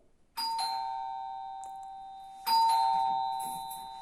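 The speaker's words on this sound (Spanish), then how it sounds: "El timbre de la puerta." A house front doorbell rings twice, each a bright electronic chime tone that sustains and slowly fades, the second strike louder, heard alone without talking.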